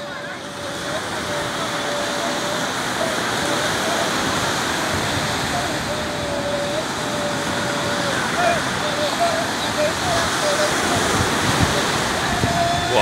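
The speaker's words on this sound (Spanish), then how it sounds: "se les vuelve a llenar de agua con las olas." Sea waves crashing over and refilling a small open boat (cayuco) in trouble at sea, a continuous loud roaring surge of water mixed with wind noise throughout.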